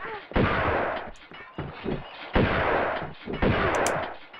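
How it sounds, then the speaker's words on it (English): Four heavy booming shotgun blasts fired in the video game Tomb Raider 2, spaced about a second apart, each with a loud sharp onset and a short decaying tail. "I'm gonna use the shotgun on him"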